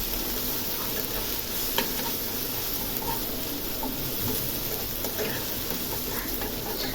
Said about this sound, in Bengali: দিয়ে ভালো মতো নাড়াচাড়া করে নিচ্ছি।